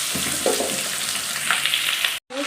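Spices sizzle in hot oil as a tempering for a vegetarian chhyachra, a loud steady hiss close up with a brief stir, then a sudden cut to near silence before a short resumption.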